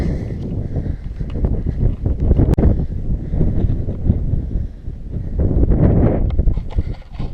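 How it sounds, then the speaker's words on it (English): Strong icy wind buffets the microphone on a long-distance hillside walk at Moel Famau, a loud, continuous rumbling roar with gusting surges throughout. "Wind's picked up, very icy wind"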